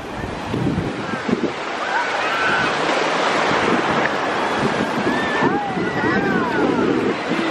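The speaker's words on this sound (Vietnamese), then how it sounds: "Sóng rất là lớn. Ôi ôi sóng kìa." Large ocean waves crash and roll onto the beach at Vũng Tàu in a steady, loud surge with wind buffeting the microphone, while excited voices and background chatter carry over the surf.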